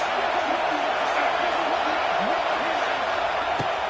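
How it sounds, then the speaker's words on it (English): Loud stadium crowd noise builds on fourth down in a football video game, a constant dense roar with scattered whoops and shouts rising out of it. "Fourth down, and this crowd is making it miserable on this offense."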